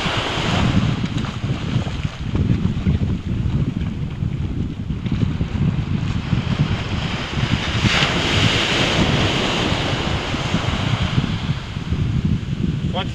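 Ocean waves wash onto a sandy beach in a steady, loud roar of surf, heavily mixed with wind buffeting the microphone throughout.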